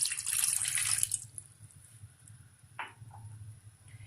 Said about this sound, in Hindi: और इसके साथ ही मैं हाफ कप में पानी ऐड करूँगी।